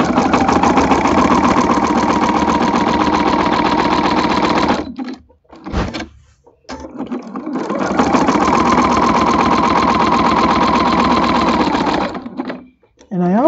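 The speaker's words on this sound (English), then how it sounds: "So I'm going to sew over that and come down to my next point." Sewing machine with a walking foot stitching a quilt, a fast close mechanical whirring chatter in long runs broken by brief stops, with a person talking at times.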